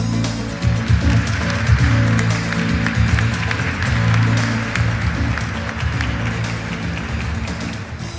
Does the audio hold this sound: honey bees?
no